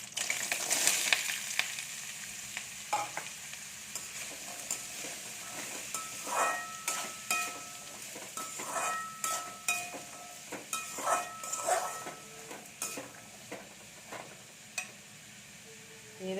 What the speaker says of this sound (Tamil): கொஞ்சம் அப்படியே வதக்கணும் ஒரு ஒரு ரெண்டு நிமிஷம் வதங்கினா போதும்